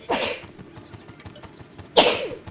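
Two loud sneezes from a person, a sharp close burst at the start and another about two seconds later, with quiet rustling between.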